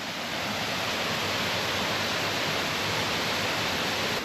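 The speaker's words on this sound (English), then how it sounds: "turns out that is actually the only one waterfall, so here it is" A waterfall in Samoa roars continuously, a dense, even rush of falling water with no pauses and no voices.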